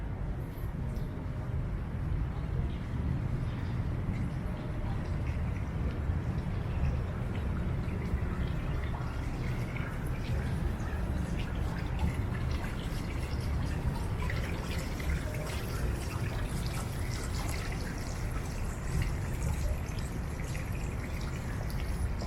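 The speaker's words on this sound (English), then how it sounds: "quite nice just to sit around and listen to the sound of the water" Water splashes and flows steadily in a small fountain in a downtown Toronto park near King and Bay at dawn, giving a constant, even wash of sound with faint city hum and no talk.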